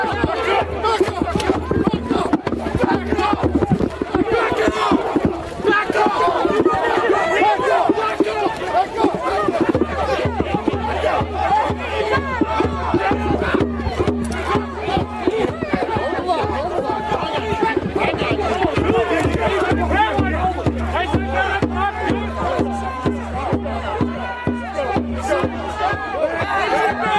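A crowd of protesters clashes with law enforcement in Newark, a dense, continuous roar of shouting and chatter with raised voices throughout, loud and close, with a steady low hum underneath.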